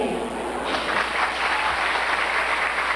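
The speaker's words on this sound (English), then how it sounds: "let us give ourselves a round of applause for the job well done" Graduation ceremony audience for the 2006 batch applauds, a steady broad wash of many hands clapping at moderate distance, continuous throughout.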